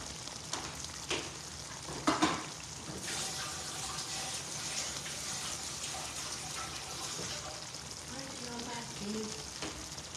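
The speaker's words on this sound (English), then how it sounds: "So I rinse my spoon out." In a home kitchen, a spoon is rinsed under a running tap, giving a steady, soft hiss of flowing water with a few faint clinks near the start.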